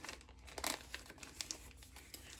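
Biodegradable plastic packaging crinkles and tears as it is opened, a series of close, quiet crackling rustles with a few sharper bursts.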